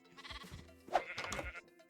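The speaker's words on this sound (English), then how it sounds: "I started breeding the sheep so that I can unlock some more trades there too." Sheep bleating in Minecraft survival during breeding on a farm, a couple of close, loud game bleats in under two seconds over quieter background game sound.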